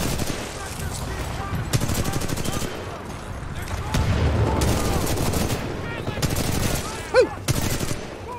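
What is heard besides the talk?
R-301 rifle gunfire in the Titanfall 2 video game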